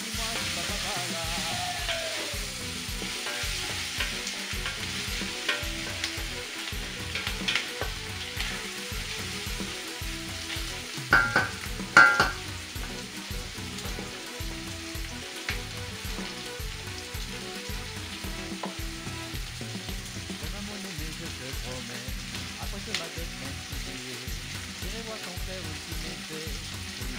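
Onions frying in a pan make a continuous close sizzle while a utensil scrapes and stirs them in a regular rhythm, with a couple of louder clatters partway through; no talking.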